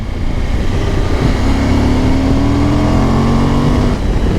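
Suzuki V-Strom 1050 DE motorcycle engine running steadily with a droning, rising throttle tone that holds loud and close, then eases off near the end.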